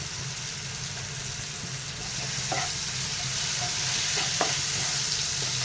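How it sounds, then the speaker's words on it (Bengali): Tomato masala with salt and turmeric frying and being stirred in a pan for a Bengali bhola fish curry: a steady, loud sizzle with a few scraping stirs of the spoon, no voices. "দিয়ে দিলাম হলুদ দিয়ে আবার একটু কষিয়ে নেব"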